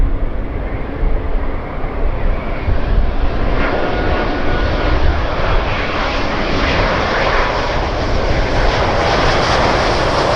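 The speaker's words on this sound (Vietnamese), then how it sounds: "chúng ta sẽ tới với chiếc Airbus A350-900 ngay phía sau thôi của Singapore Airlines" Singapore Airlines Airbus A350-900 jet at an airport, a loud, steady broadband roar of engines that holds at a constant level for several seconds, with a slight rise in pitch toward the end.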